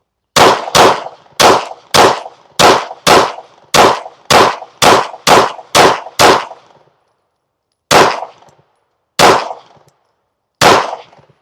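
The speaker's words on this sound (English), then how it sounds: "just watch me shoot, and then we'll go up and check the target" Loud, sharp gunshots from iron-sights shooting practice ring out close by: eleven evenly spaced shots in a steady rhythm, then a pause and three slower single shots, with no talking.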